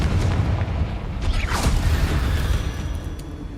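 The Confringo fire-blast spell going off in Hogwarts Legacy, a loud, rumbling boom with creaking mechanical texture that fills the whole moment, with no voices.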